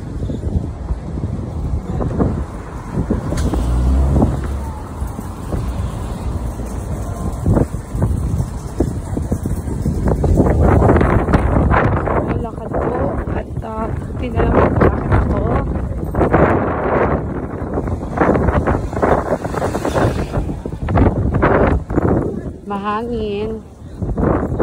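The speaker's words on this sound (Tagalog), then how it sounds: "Mahangin." Wind blowing across an outdoor market, roaring into the microphone as a constant close rumble with gusty swells, while people talk over it through much of the stretch.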